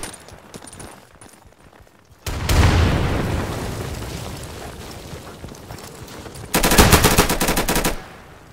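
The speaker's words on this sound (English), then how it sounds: "I'm throwing a grenade!" A grenade blast and bursts of automatic gunfire in the shooter game Insurgency: a loud explosion that decays into rumble, then a sharp rapid volley of shots, with distant gunfire beforehand.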